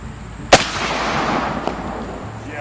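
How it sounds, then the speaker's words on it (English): A shotgun loaded with buckshot fires once at an outdoor family shooting range, a sharp loud blast followed by a short rolling echo that fades, with a faint second crack after it. "Hey, that was buckshot."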